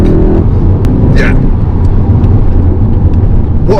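A 2021 VW Golf GTI Mk8 with a 245 hp engine is driven hard through a corner under trail braking; a steady, loud engine and road drone runs throughout with a brief higher squeal early on.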